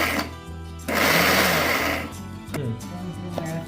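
An electric mixer grinds roasted peanuts into powder, whirring loudly in short bursts that start, surge and slow between pulses, heard up close with no talking.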